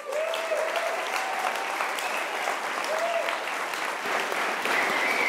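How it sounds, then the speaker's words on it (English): Sustained round of applause from an audience at a startup accelerator demo day in Maine, steady and dense throughout without pause, with some crowd noise mixed in. "Nice round of applause"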